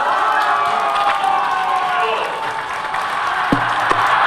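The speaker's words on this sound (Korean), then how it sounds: "헌법재판소가 윤석열 대통령 파면을 결정하자 여기저기에서 환호가 터져 나옵니다." A crowd outside South Korea's Constitutional Court erupts in cheers and clapping as President Yoon Suk Yeol's removal from office is announced, a steady roar with scattered shouts and voices mixed in.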